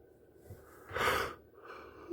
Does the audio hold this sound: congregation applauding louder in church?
no